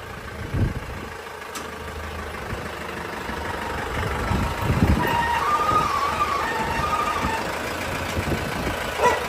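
A car engine idles steadily throughout while the car is being parked, with a low continuous hum. A few brief knocks and clunks come through on top of it, and no one speaks.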